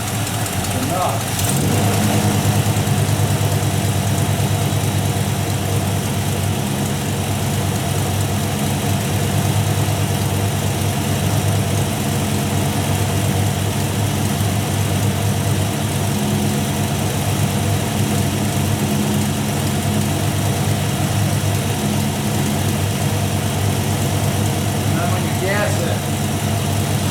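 A 1967 Mustang's 347 stroker V8 settles into a steady, loud idle close by, its lumpy rumble continuing throughout, with a brief sharper blip near the start.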